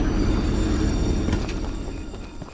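Train from the video game Choo Choo Charles rumbling along the track as a loud, steady low rolling roar that eases slightly toward the end, with no voices over it.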